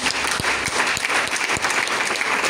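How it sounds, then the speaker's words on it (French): A church congregation applauding together, loud, dense, sustained clapping from many hands, close and filling the whole clip. "Acclame pour Jésus"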